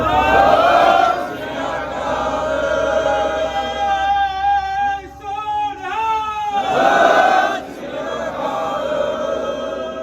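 A Sikh congregation gathered in protest raises the Bole So Nihal Sat Sri Akal jaikara. Loud massed shouting swells, then a single lead voice calls out, and the whole crowd roars back together in a powerful collective cry.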